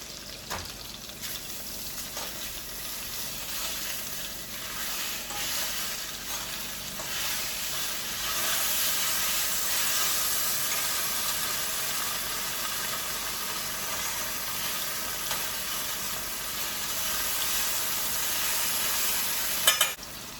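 Imitation crab fries in a pan with a steady, close sizzle and hiss that holds for about twenty seconds, occasional stirring clinks mixed in, and no one speaking.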